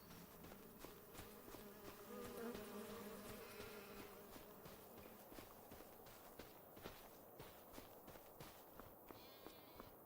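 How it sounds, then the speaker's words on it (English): Bees buzzing in the video game Farming Simulator 25 on a Scottish Highlands map, a faint steady insect drone mixed with soft footstep taps, no talk. "They sound like a beautiful bee."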